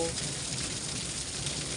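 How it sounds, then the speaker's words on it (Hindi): Steady, continuous rain falling after a heavy hailstorm in a mountain village, a dense even hiss of rain on surfaces with no pauses and no voices. "पहले भयंकर ओलावृष्टि और उसके बाद लगातार बारिश"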